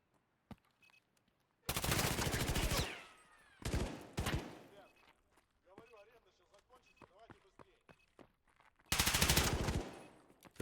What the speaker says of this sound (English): Good effort on the wallbang, but runs dry in the mag here.